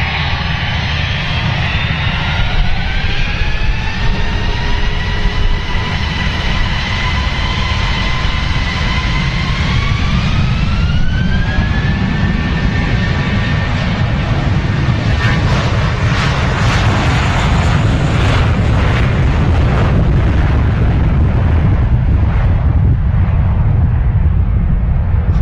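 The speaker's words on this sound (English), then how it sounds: "watch the aircraft taxiing onto the runway" A jet aircraft taxiing at Manchester Airport: loud, steady engine roar with a whine that rises in pitch and a low broadband rumble, continuous and close throughout.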